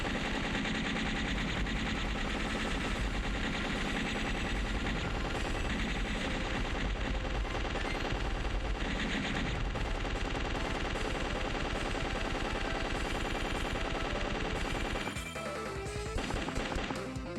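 Rapid, continuous gunfire from the guns of a flying craft in the shoot-'em-up video game Legend of the Steel Empire, loud and dense over game music, with a brief break near the end.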